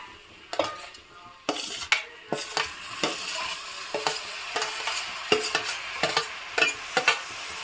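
Tomatoes go into a pan of dry prawn curry, with a spoon scraping and clattering against the pan in quick irregular strokes over a soft, steady sizzle of frying.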